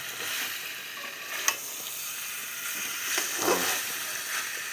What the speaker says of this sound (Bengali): তো কষিয়ে নিচ্ছি ভালো করে